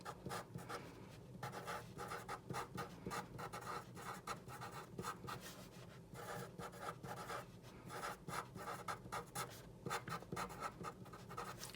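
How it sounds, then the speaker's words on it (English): Pen or pencil scratching across paper while goals are written down, a steady close scraping with short rhythmic strokes and brief pauses, no talking. "So I'm going to also write that down."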